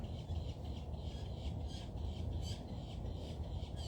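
Wild birds squawk around a backyard feeder at breakfast time, harsh repeated calls overlapping in a dense chorus over a steady, noisy outdoor background.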